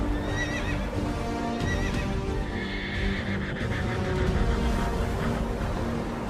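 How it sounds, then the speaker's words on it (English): Horses neighing and whinnying with clattering hooves in an ancient Egyptian chariot charge into the sea, a dense, continuous battle-scene sound effect with repeated whinnies over steady hoofbeats. "Egypt's chariots charged into the sea. Wheels clogged with mud. Horses stumbled."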